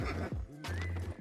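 Horse neighing in the online game Albion Online, a single loud whinny lasting about a second with a rising and falling cry, close and clear.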